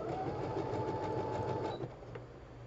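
A sewing machine running a zigzag stitch around the edge of a fabric piece, a steady close whirring, rattling drone that slows slightly near the end, with no voices.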